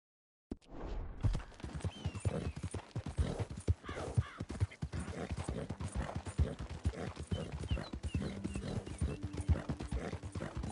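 Steady clip-clop of a white horse's hooves at a gallop in Red Dead Redemption 2, close and rhythmic throughout, with occasional faint snorts and game ambience.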